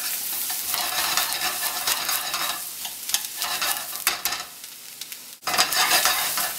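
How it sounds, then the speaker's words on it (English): Onions being caramelized in a pan for chicken Marsala sizzle steadily up close, with frequent scraping stirs and a brief pause before the sizzle returns loud. "We want to caramelize these onions"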